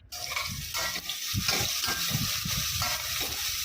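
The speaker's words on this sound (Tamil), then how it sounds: "நம்ம நசுக்கி வச்சுருக்கிற இந்த பூண்டை போட்டு நல்லா ஃப்ரை பண்ணுறோம்" Crushed garlic frying in hot oil in a pan, a continuous bright sizzle with scraping and stirring noises throughout.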